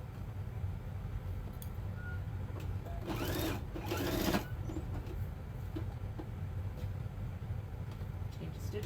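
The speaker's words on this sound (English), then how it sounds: "I'm going to sew this down on each side first, and I'm going to sew it together" A sewing machine stitches fabric for an Easter bunny basket, heard as a quiet whirring burst of about a second and a half over a low background hum.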